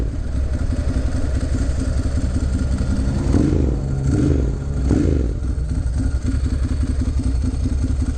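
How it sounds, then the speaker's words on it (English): Ducati Monster M1100 with a dry clutch and dual carbon fiber exhausts, its V-twin engine running steadily with a rhythmic lumpy throb, close and loud, with a couple of brief revs and the dry clutch's rattling clatter underneath. "Love the sound of the dry clutch"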